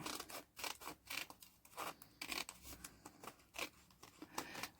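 Scissors snip paper for an envelope craft, a quiet, close series of crisp cutting strokes in an uneven rhythm with short pauses between snips.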